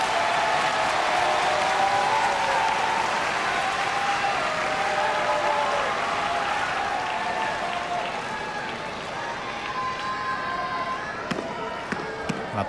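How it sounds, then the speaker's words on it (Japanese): Crowd at the Kyushu sumo tournament in Fukuoka roaring and clapping for Kaiō on the final day, a broad sustained swell of cheers and applause with a commentator talking over it. "特に九州だけではなく、どの場所でも海王への声援は毎場所大きなものがあります。"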